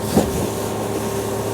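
A Boston Whaler 130 Super Sport motorboat runs steadily at 4,000 RPM and about 32 km/h in a tailwind, giving a continuous engine drone with water and wind noise. There is a brief louder bump near the start.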